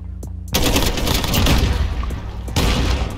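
Loud automatic gunfire from the video game Call of Duty Modern Warfare: a sharp single shot, then sustained rapid bursts pounding close and dense, with a brief gap before another burst.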